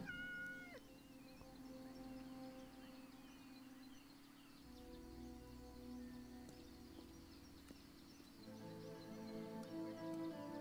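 Cat meows in the video game Yes, Your Grace, a few short rising calls near the start, with steady game music and ambient tones playing throughout.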